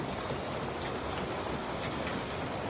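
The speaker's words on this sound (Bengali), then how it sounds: "সকাল সকাল বৃষ্টি পড়ছে।" Steady morning rain falls outside a house, a dense, even hiss of drops that holds at the same level from start to finish with no voices.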